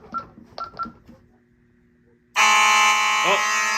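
A fire alarm system suddenly blares loud and continuous, a harsh electronic tone that starts abruptly after a few short beeps from a panel during a system test reset.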